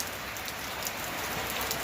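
Steady rain falls in a village, a dense, even hiss of drops on surfaces with no pauses, fairly loud and alone.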